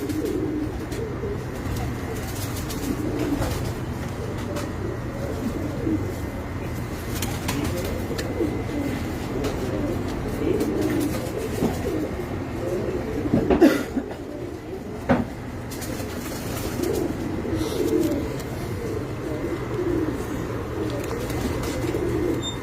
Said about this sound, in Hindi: ये कबूतर है जी